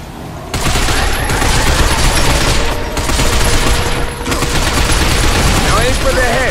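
Sustained loud gunfire from the video game Binary Domain as shots target robots' legs, a near-continuous barrage with brief dips, while a voice talks over it.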